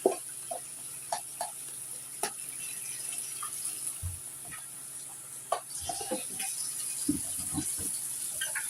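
A spoon stirs pico de gallo dressed with lemon juice in a bowl, giving quiet, irregular wet clinks and soft scrapes against a faint steady background hum.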